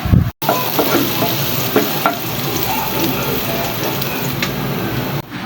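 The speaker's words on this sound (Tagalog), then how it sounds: "isinunod natin ang sibuyas at haluin nyo lang at hintayin yung maluto ng konti" Onions sizzle loudly in a hot pan with garlic while a utensil stirs them, a dense close frying hiss broken by a few scraping strokes and clacks, with no voices.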